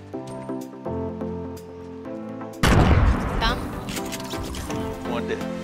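Video game combat in a house: a loud grenade blast bursts in midway, followed by scattered gunfire and debris, over a steady game music bed, with a player talking throughout.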